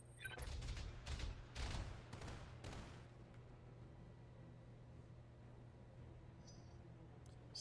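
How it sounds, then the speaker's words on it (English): Rapid autocannon bursts from the Battletech video game, a few loud clustered volleys in the first three seconds that fade into a steady low hum and quiet background. "Something just shot a ton of autocannon at me."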